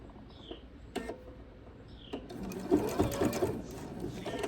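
Sewing machine stitching quarter-inch binding down the side of a pot holder toward the last corner, a close steady run of needle strokes that gets louder and busier toward the end, with no talk.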